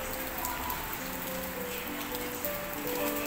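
Steady rain falls outdoors in a continuous even patter on surfaces, with a faint tonal hum running underneath and no clear talk.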